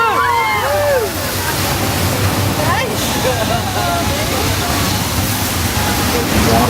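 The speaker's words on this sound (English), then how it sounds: "There's a flash flood heading towards the back doors!" Rushing flash-flood water effect on a Universal Studios set, a loud, steady torrent of splashing and sloshing that fills the scene, with excited voices and whistle-like sweeps over the roar.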